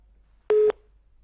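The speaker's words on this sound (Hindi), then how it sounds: "फोन जो है वो डिस्कनेक्ट हो गया है" A single short electronic telephone tone after a call disconnects, a steady beep of about a fifth of a second standing alone against near silence.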